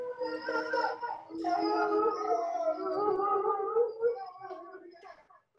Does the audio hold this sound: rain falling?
no